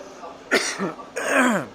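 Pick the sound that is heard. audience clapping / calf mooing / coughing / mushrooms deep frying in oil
coughing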